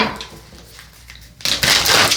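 Tarot cards are shuffled by hand in a quick riffle that starts softly and then becomes a loud, close, dense burst of flapping card edges in the final second.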